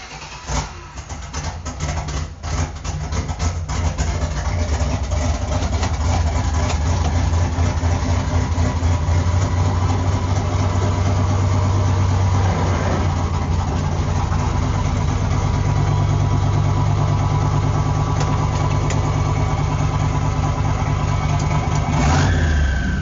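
A turbocharged LS engine with a 7875 turbo and Holley EFI idles in a Chevrolet C50 truck, a loud, steady, close-up rumble that holds throughout, with a brief rise in revs near the end.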